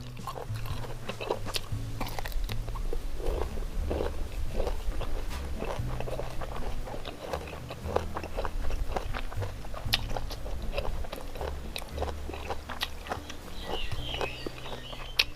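Close, wet crunching and chewing of spicy pounded apple snails eaten with boiled bamboo shoots, repeated bites and munching in an uneven rhythm over a low background hum.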